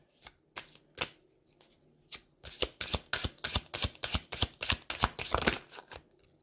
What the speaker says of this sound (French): on va prendre une dernière carte du même oracle